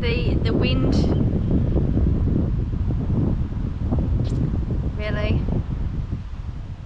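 Strong wind buffets the microphone over a field, a loud, continuous roar and rumble that persists while a person talks over it.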